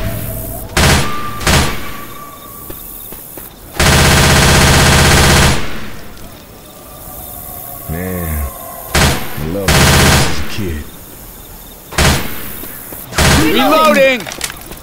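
Bursts of automatic gunfire in Left 4 Dead 2, shooting at a clown at a dark carnival, come in loud broadband volleys with shouted talk between them.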